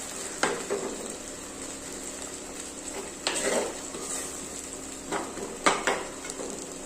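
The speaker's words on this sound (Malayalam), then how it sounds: "അതിന് ശേഷം ഇതെല്ലാം കൂടെ നന്നായിട്ടൊന്ന് മിക്സ് ചെയ്ത് കൊടുക്കാം." A jackfruit seed and drumstick leaf curry being mixed in a pan, with a low continuous sizzle and a few scattered scrapes and knocks of a spoon against the pan.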